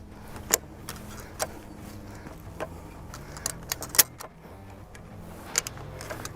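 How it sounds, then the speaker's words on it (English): A Res-Q-Jack rescue strut ratchet lowering a vehicle in controlled steps gives sharp, separate metallic clicks at irregular intervals, each one loud and close, over a low steady background hum. "we're going to do controlled lowering, pulling back, sliding, one click at a time."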